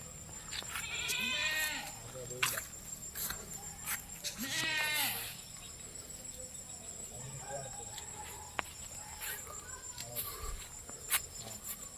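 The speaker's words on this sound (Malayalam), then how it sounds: "ഒക്കെ ഒരു കൂട്ടത്തെ ആടുകളാട്ടോ." A herd of thirteen goats grazing together in Malappuram gives two loud, drawn-out bleats a few seconds apart, then softer calls, over a steady background of chirping insects and crickets.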